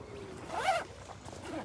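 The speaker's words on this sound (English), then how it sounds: "it's got a zip that goes all the way around" A quick zipper pull rasps close by as a fishing unhooking mat is zipped closed, a short burst of zipping sound over faint background noise.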